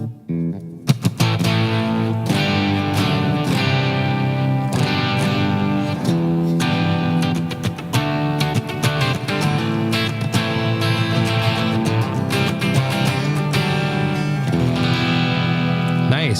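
Distorted electric guitar chords and notes ring out through a Line 6 Helix's Dynamic Hall reverb, with a spacious hall tail, strummed steadily and loudly throughout.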